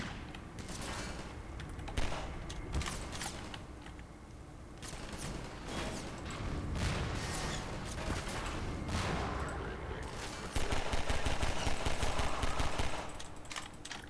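Pistol fire in the video game Half-Life 2: shots come in a steady run of sharp bangs over a dense, busy game soundscape, with a louder cluster of shots near the end.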